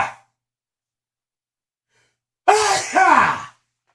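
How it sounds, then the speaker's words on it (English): A single loud, close sneeze bursts out after a brief quiet, with a sharp intake and explosive, breathy release lasting about a second, preceded by a faint trailing voice. "Oh, I'm gonna sneeze."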